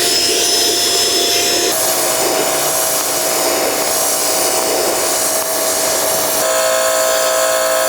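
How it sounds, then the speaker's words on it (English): A power drill with a brush attachment whirs loudly and continuously with a high motor whine, its pitch shifting slightly as the brush scrubs car carpet. "you can take a drill attachment like this"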